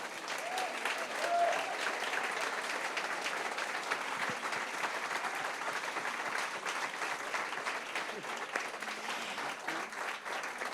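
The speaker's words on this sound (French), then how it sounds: "Je vous demande d'applaudir Rodrigo Sorogoyen" Audience at the Cinémed film festival applauds Rodrigo Sorogoyen, a dense, steady roomful of clapping that holds for about ten seconds without letting up, with a faint murmur of voices beneath.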